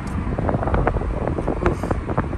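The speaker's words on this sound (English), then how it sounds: "Oh, it's super windy." Strong dust storm wind buffets the microphone in a continuous loud roar with gusty rumbles and no pauses.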